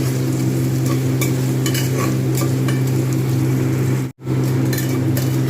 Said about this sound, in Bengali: লালচে করে ভাজা হয়ে গেছে